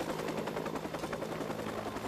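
A video game helicopter's rotor thumps in a dense, continuous rapid beat, loud and close, filling the whole moment without pause.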